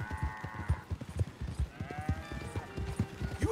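Horse hooves in the Red Dead Redemption II video game, a quick steady clip-clop trot close by, with a couple of tonal whines or animal calls over it.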